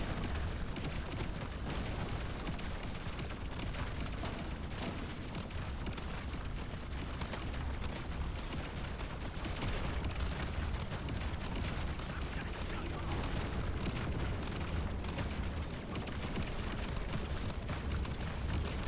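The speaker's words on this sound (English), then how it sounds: "I think the high explosive explosion size is just too small here" Dense, continuous barrage of plasma grenade blasts and weapon fire in Deep Rock Galactic: Survivor, loud and relentless with no pauses, layered into a dense wash of explosions under occasional talk.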